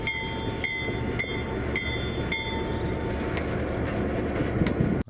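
A real train rolls steadily along the track, a continuous rumble with periodic clanks and faint wheel squeal, close and loud throughout without any voices.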